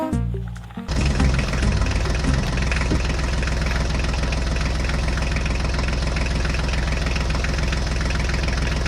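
HMT tractor engine starts up and settles into a loud, steady diesel rumble with a rapid knocking throb, close by and continuous, no voices over it.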